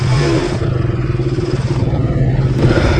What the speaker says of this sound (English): Returning to Imphal city while driving my bike.